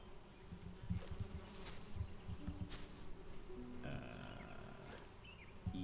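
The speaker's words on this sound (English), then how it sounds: "I hear the bees" Bees buzz steadily in a video game survival scene, a continuous low insect drone with a few higher tonal game sounds layered on top, no voices.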